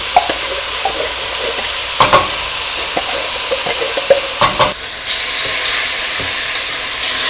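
Vegetables and canned diced tomato being stirred together in a pot for vegan lentil tortilla soup, a steady soft sizzle broken by a few louder scraping stirs, close by with no talking.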